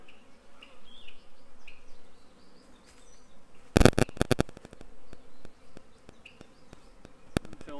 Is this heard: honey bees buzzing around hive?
yes